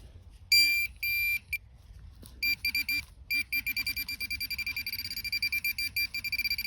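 Metal detector sweeping ground, giving bursts of high electronic beeps and tones that start, break off, then settle into a fast, steady pulsing signal, loud and close, with no talking.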